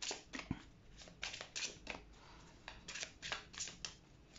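Tarot cards are handled and laid over piles during a reading, giving faint, close papery slides and soft flicks in irregular bursts.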